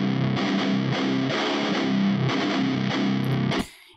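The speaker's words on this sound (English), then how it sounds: "I added some guitar rig, and that actual guitar sounds like this." Heavily distorted electric guitar plays chunky, rhythmic chords in bursts, then stops suddenly with a brief fading tail.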